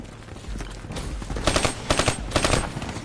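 Rapid video game gunfire, dense automatic bursts that build into heavy fusillade-like volleys over a few seconds, loud and continuous, with no talking.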